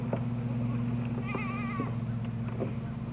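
A young goat gives a short, wavering bleat at a distance over a constant low hum and scattered background noise.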